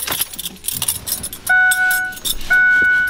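Metal keys jangle close by while a Dodge key is tried in a Ford truck, shaken in quick bursts with a sustained warning chime tone sounding in between.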